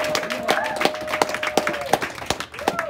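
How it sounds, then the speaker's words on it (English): Comedy club audience at a stand-up show breaks into scattered applause, with distinct individual claps in an irregular rhythm, fairly close, with some crowd noise beneath. "Clap it up"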